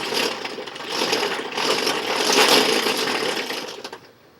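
A homemade can crusher with a flywheel, on new axles and greased bearings, runs up and spins with a loud, close mechanical whir and rattling clatter for several seconds, then winds down to quiet.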